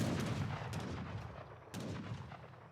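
Skirmisher infantry firing muskets in Age of Empires III, with a rolling volley of booming gunshots and a second sharp burst partway through, dense and loud.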